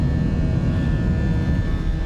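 Airbus A319 engines at takeoff power in Microsoft Flight Simulator 2024, a steady, loud, unbroken low roar with a faint high whine above it, heard from inside the cabin close to the engines, with no talking.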